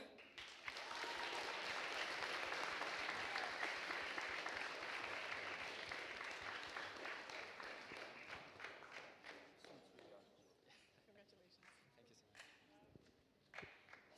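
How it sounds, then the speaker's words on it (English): Applause fills a Model UN closing ceremony hall for the delegate of China, a dense wash of clapping that gradually thins into scattered claps and thuds, with voices murmuring underneath. "So a big clap for him, the delegate of the Republic's people, sorry, the delegate of China"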